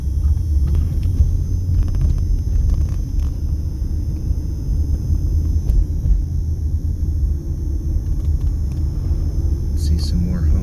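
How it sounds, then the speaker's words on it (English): A truck passing on a street outside the Las Vegas Strip, heard as a loud, continuous low rumble of engine and road noise that holds steady throughout. "Wait for this truck."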